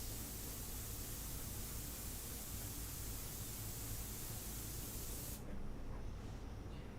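An airbrush sprays paint in a steady, close hiss that runs without pause for the whole stretch, with no talking over it.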